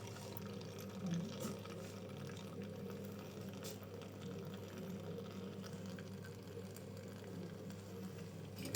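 Liquid drains steadily from cured, air-dried meat as a continuous low watery trickle at a near-even level, with no talk over it.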